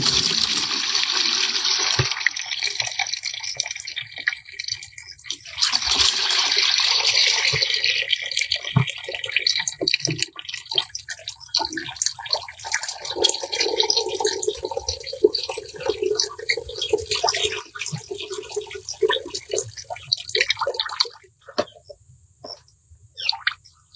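Liquid from banana and vegetable peels fermented seven days in water being strained, a steady splashing pour with dripping and trickling that fades to quieter drips near the end.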